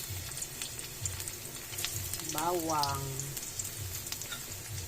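Garlic sautéing in hot cooking oil for bitter melon with eggs, a close, steady sizzling crackle that continues throughout, with a brief voice heard over it midway.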